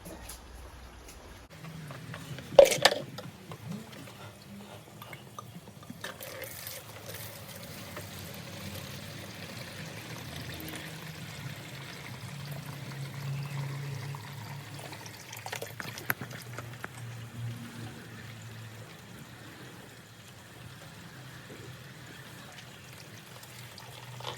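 Water is poured into a bucket during winter maintenance of an outdoor aquarium: a soft, steady pour and trickle runs throughout, with a couple of brief knocks near the start.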